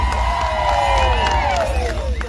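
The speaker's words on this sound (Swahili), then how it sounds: "Tumpigie makofi mpaka watu wa Laikipia wafurahi sana" A large crowd at a political rally in Laikipia, Kenya cheers and whoops loudly and continuously, with shrill voices rising above a steady roar of applause.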